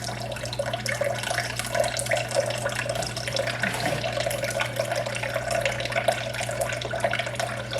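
Kombucha pours steadily out of a fermentation jar during a second ferment, a continuous close liquid stream with a low steady hum beneath and no talking.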